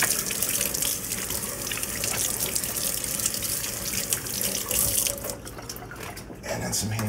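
Tap water runs steadily into a sink while hands are washed in a kitchen, a close continuous splashing rush that thins out near the end.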